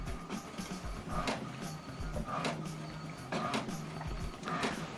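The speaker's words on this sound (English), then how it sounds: "what it's doing now, what is printing is alignment" An inkjet printer prints an alignment page, its print head carriage shuttling back and forth in repeated mechanical passes with whirring and clicks, moderately quiet and close.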